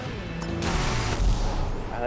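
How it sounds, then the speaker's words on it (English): In the video game Driver San Francisco, one car rams another, giving a couple of sharp broadband crashing impacts over a steady engine and game roar. "I basically just rammed into someone else."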